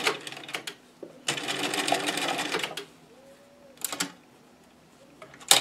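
A sewing machine stitching ruffles onto a table runner runs in bursts, a fast mechanical whir of about a second and a half, then a shorter run and brief taps, with quiet pauses between.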